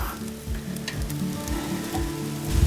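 Mackerel sizzling steadily on a grill, a close, continuous crackle and hiss with no voices.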